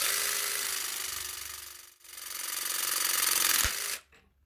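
A press tool crimping a press fitting joining polymer and stainless steel pipe, a loud buzzing mechanical whine that pauses briefly, resumes and ends with a clunk before cutting off, alone and close.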